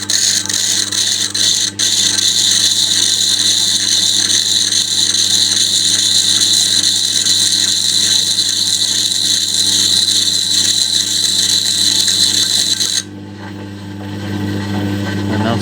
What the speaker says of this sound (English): And that's it, sharpens your chisels.